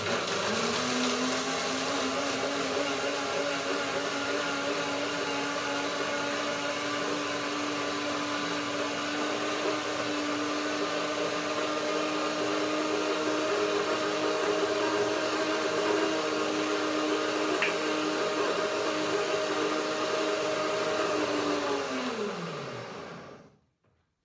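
Countertop blender grinding cashews and sesame seeds for an herb curd, a steady loud whirring motor hum that holds for about twenty seconds before winding down to silence.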